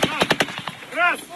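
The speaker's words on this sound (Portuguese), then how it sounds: "Soaram os primeiros tiros de aviso." Several sharp warning gunshots crack in quick succession in Ukraine, followed by a brief pause and a distant shout.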